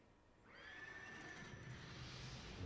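A horse beside a horse-drawn carriage in a video game gives one long, clear neigh that rises and trails off, moderately close, over a soft background.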